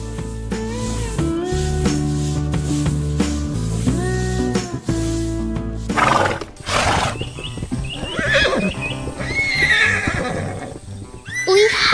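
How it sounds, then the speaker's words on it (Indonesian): Cartoon horses whinny loudly again and again, their high, wavering neighs mixed with quick clip-clop hoofbeats that run on steadily throughout. "Lihatlah, kuda-kuda yang lucu sedang bermain di tengah lapangan hijau, berlarian dengan ceria di hari yang cerah."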